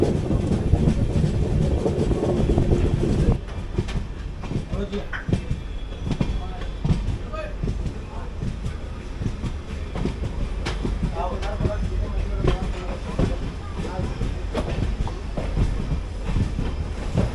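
The Haripriya Express sleeper train pulls into Hubballi platform 1, steady heavy rumble with rhythmic wheel clicks and clanks over rail joints, heard from inside the carriage, loud and continuous throughout.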